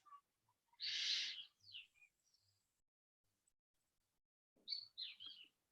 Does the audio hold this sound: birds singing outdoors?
yes